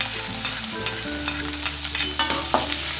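Shallots and half-dried anchovies fry in hot oil, giving a continuous bright sizzle with small pops and crackles throughout, close and steady with no talking.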